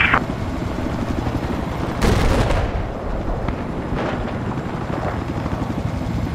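Helicopter rotor drone in the Battlefield 4 video game, a steady chopping roar throughout with a loud burst of gunfire or an explosion near two seconds and scattered battle noise behind.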